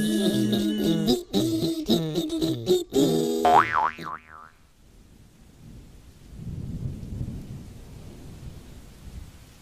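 A cartoon thunderstorm on a stormy day: after a playful musical passage with a springy boing, a low rumble of thunder rolls in with a steady wash of falling rain.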